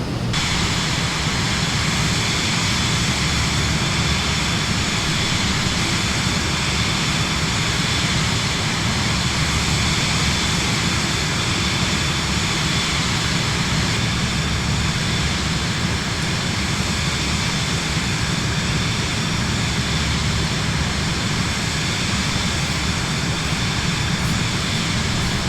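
A Vision Jet climbing in Microsoft Flight Simulator 2024 gives a steady, loud jet engine roar with a broad whooshing hiss and faint tonal whine, holding unchanged throughout with no voices.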